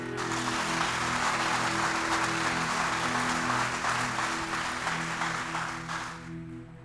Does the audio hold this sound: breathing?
no